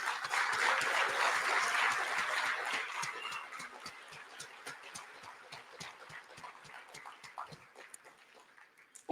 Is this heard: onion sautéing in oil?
no